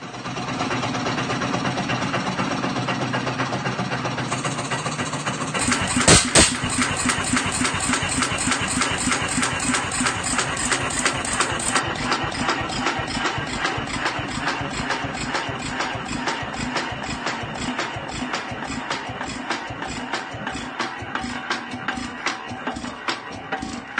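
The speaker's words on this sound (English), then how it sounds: "I was hoping to tow this old stationary engine. I can't get it to start. It so wants to start" Old stationary engine being cranked over and over without catching, a steady rapid chuffing and mechanical clatter throughout, with a sharp loud knock partway through, close by.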